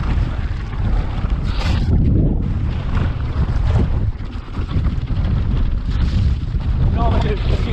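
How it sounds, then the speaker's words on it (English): Strong gusty wind, around 21 mph with gusts to 46 mph, batters the microphone on a quarry mountain bike trail in Lancashire, a loud continuous roaring rumble that rises and falls with the gusts. "The wind is currently 21 miles an hour, gusts 46 miles an hour."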